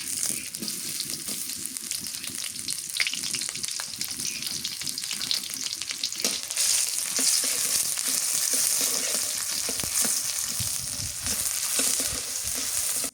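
Onions frying in hot oil give a steady, dense sizzle that crackles and spits without pause, close up and fairly loud, with occasional stirring scrapes and no talking.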